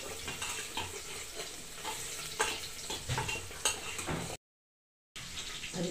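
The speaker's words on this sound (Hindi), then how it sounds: "अब इसमें डाल देती हूँ मैं ये हरी मिर्च। हरी मिर्च फ्राई हो जाएगी" Green chillies fry in a pan of hot oil left over from frying onions, with steady sizzling broken by stirring scrapes and clinks, close and moderately loud; a short gap of silence near the end.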